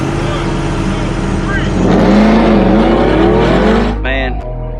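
Loud truck engines roar and rev close by, a RAM TRX against a 1000 HP supercharged V8 Ford F150 in dig and 30 roll races, with a rising engine pitch and people talking over the noise before it drops away near the end.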